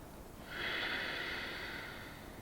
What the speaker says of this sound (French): À l'expire, faites passer l'air derrière la gorge pour créer comme le bruit d'une vague.